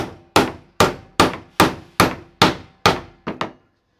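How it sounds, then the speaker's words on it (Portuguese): A screwdriver struck with a hammer to knock out a bearing from a homemade shaft housing: nine sharp metallic blows at a steady pace about every half second, the last two quicker, close and loud. "Vai largando com a chave de fenda e batendo."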